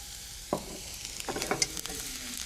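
Minced garlic sizzles gently in olive oil over very low heat, giving a soft continuous hiss broken by a few light clinks and scrapes of a utensil, close and quiet, with no voices.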